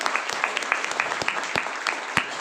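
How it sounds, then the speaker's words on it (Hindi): Audience at a business seminar clapping for a speaker, a brisk layer of many hands with a few sharper individual claps standing out near the microphone. "एक बार सर के लिए जोरदार तालियां बजा दीजिए"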